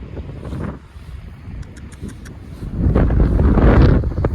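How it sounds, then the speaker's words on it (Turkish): Strong wind buffets the microphone in heavy gusts, roaring louder toward the end, with a few faint tones in the distance. "nasıl bir sert bir rüzgar var"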